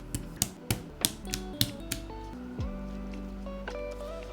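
Sharp clicky keystrokes on a Boop Redux mechanical keyboard tap out in a quick, uneven burst, followed by softer mechanical clacks and a lingering ring, with no voices.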